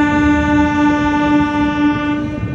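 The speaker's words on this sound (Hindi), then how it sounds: "अब लोकोमोटिव के एकदम सामने है, तो हॉकिंग भी अच्छा तरह से सुनाई देगा" A locomotive horn blasts loud and steady at close range on a moving passenger train, the Bengaluru–Kamakhya AC Express. The tone is held for the whole stretch, with rumbling running noise beneath it.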